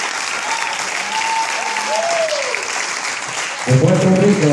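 Audience applause fills an event hall as a steady, dense wash of clapping from a crowd, loud and continuous, with a voice speaking over it and music entering near the end.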